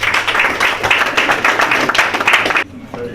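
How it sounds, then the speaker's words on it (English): Audience applause at a stock exchange opening bell ceremony, a dense wash of clapping with a few voices mixed in, sustained and fairly loud before stopping abruptly near the end. "Please give her a round of applause."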